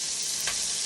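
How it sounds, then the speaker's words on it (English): Steady hiss of food sizzling in a hot pan over a gas flame, a continuous bright frying noise with a brief stir or clatter partway through. "You'll hear that sizzle"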